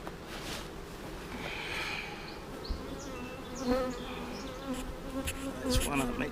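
Honey bees buzz around a comb honey hive in a dense, close, continuous drone, with individual bees whining past over the steady hum.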